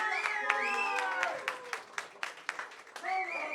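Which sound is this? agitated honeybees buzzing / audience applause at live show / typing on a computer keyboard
audience applause at live show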